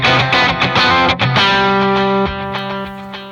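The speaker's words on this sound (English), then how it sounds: "here's what I do have in here is a dual delay." Distorted electric guitar notes played through a delay effect, repeats trailing and ringing out as the phrase fades into a sustained, echoing tone.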